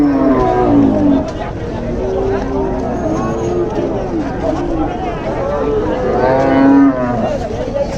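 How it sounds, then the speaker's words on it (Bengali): Cattle lowing amid a busy crowd at a large village cattle market, with several drawn-out moos rising over constant chatter and commotion close by. "বাসু ঘুরে ঘুরে গরু দেখতে দেখতে আমরা ক্লান্ত হয়ে গেলাম"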